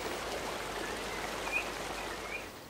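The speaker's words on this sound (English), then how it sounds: "For the ancient Greeks, survival depended on freshwater springs like these." Water from a freshwater spring flows in a steady, soft, hissing trickle, faint and even with no other sounds.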